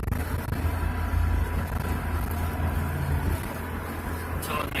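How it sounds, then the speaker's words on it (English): Heavy pickup truck towing a camper labors over a suspension bridge in Jacksonville, Florida, its engine droning low and steady under road and wind noise, easing slightly near the end as it downshifts. "All the way down to third gear now. This truck's having a hard time getting over this bridge."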